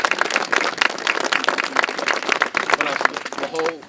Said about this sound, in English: Cindy Rubino deserves another round of applause for bringing this forward.